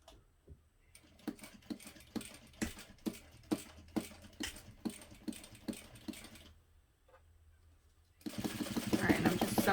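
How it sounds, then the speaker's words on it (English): A sewing machine needle punches through waterproof canvas on a hobo bag in a loud, regular run of close rhythmic thumps. The stitching pauses briefly, then a louder, broad whirring rush begins. "My needle is so super loud sewing through this waterproof canvas."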